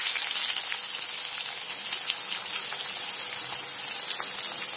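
Curry leaves and finely chopped onion hit hot oil with cumin, mustard seeds and asafoetida, a bright, steady crackling sizzle with tiny popping spatters, close and unbroken.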